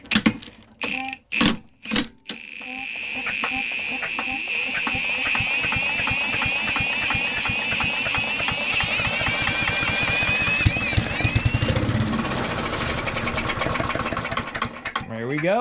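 A Murray push mower engine from a barn find is spun by a drill with a ratchet socket, a few bursts of cranking before it catches and runs steadily at close range, with a ratcheting clatter over the engine.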